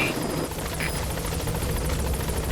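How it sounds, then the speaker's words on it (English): A support helicopter arrives in the video game Metal Gear Solid 5, its rotor throbbing steadily and loudly throughout, with faint radio-like tones and no clear speech. "Support helicopter has arrived."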